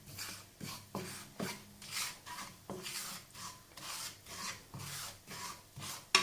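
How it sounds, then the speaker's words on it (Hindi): Spices for chicken samosa being roasted in a pan, stirred with steady rhythmic scraping strokes roughly every half second, close and clear with no talking. "इन मसालों को अच्छी तरह भूनेंगे"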